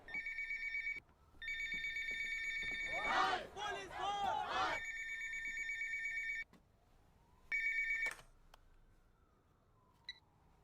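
A telephone rings repeatedly in long electronic bursts, with a brief burst of voices in between and a final short ring near the end.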